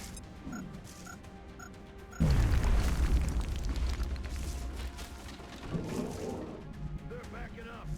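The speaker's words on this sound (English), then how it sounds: "I'm supposed you can lob a grenade at him" A grenade blows up in the turn-based strategy game XCOM Long War. A sudden, heavy boom cuts through quiet background music and then slowly rumbles away, with someone talking before and after.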